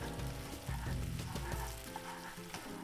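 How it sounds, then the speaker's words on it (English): Nori cream sauce being stirred in a pan with half a cup of starchy pasta water, a steady close sizzle and bubbling with soft scraping and clinking of the utensil against the pan throughout. "I'm gonna mix this up until the nori is fully dissolved"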